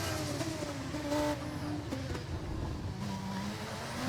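An F2 race car in the F1 24 racing game streaks through the Monaco tunnel at full speed, its engine note a loud, sustained high-revving drone with rising and shifting pitch, close and unbroken.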